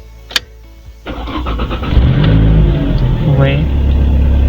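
A Toyota car engine cranks and starts at about one second, then settles into a steady, loud idle after a key has been reprogrammed; someone speaks briefly before it turns over and again over the running engine.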